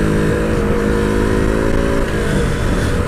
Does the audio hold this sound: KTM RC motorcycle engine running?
yes